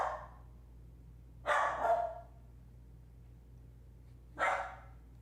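A dog barks in three short bursts, two close together and then one more after a pause, fairly near and with nothing else over it in an otherwise quiet room.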